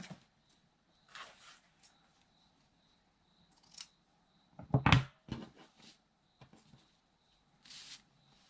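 Scissors cut material for a junk journal craft project in a quiet room, giving a few faint, scattered snips and rustles with pauses between them and one louder burst of handling.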